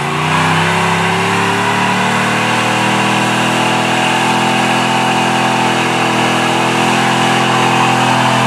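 A stock 350 V8 car engine fitted with headers and a five-speed revs hard and continuously at a burnout event, loud and near throughout with a steady rumbling roar.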